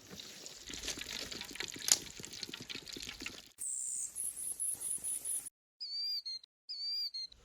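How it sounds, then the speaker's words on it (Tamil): Pure cold-pressed groundnut oil poured into a pan outdoors beside a waterfall, a soft, steady pouring hiss for a few seconds, followed by clear, repeated bird chirps. "செக்கில் ஆட்டின சுத்தமான கடலை எண்ணெய் ஊற்றிக்கலாம்."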